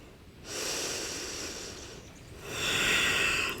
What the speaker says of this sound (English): Taking 3 breaths here